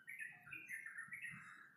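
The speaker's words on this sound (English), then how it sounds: "even if you could hear the birds chirping" Birds chirp and tweet in quick overlapping calls, high and clear, fairly close, with no talking.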